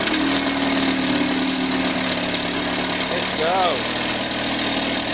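A 1952 Mercury KH7 10 HP outboard motor runs in a test barrel, its loud, close, steady engine drone continuous throughout, with a brief voice over it.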